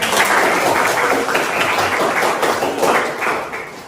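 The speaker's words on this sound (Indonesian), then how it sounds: "kasih tepuk tangan" A classroom of students claps in a loud, steady burst of applause lasting several seconds, with scattered taps and thumps mixed in.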